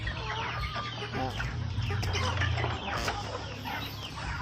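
A flock of two-month-old chickens clucks and peeps constantly nearby while eating, with a low hum running underneath.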